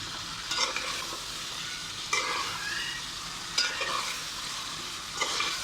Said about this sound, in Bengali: এগুলোকে ভালো করে মেখে নিতে হবে মশলার সঙ্গে